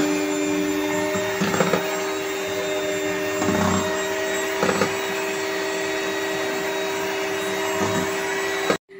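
An electric beater whirs steadily while whipping fresh cream into an ice cream mix, its motor whine broken by a few louder surges as it works, then cut off abruptly at the end.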